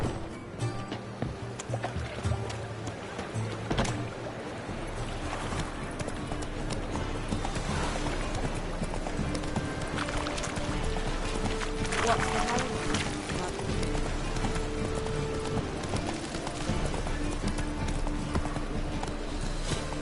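Horse hooves gallop in a steady clip-clop rhythm in The Witcher III video game, mixed with game ambience and a voice speaking over the running.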